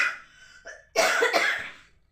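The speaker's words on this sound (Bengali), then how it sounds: "কথা বলতে গেলেই কাশি পাচ্ছে।" A woman with a bad cold gives a brief faint throat sound followed by a loud, harsh cough burst, heard close and alone in a quiet room.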